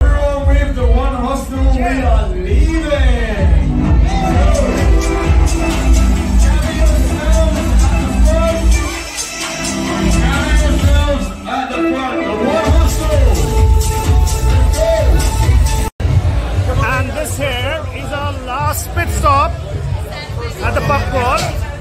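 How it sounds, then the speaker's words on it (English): Loud, dense crowd chatter fills a packed Hanoi pub late at night on a pub crawl, with overlapping voices, occasional whoops and bangs, and music thumping underneath throughout. "We're in the crowd."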